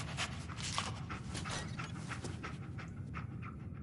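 A dog companion in the video game Fallout 4 pants steadily and close up, a continuous breathy rhythm with faint mechanical creaks in the background and no talking.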